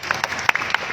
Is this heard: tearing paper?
no